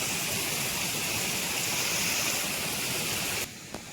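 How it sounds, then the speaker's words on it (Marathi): Water pours over a river weir in the Konkan region as a loud, steady broadband rush, close and unbroken, dropping slightly in level just before the end. "इथं तिथूनच दाखवतो तुम्हाला कसं पाणी पडतं"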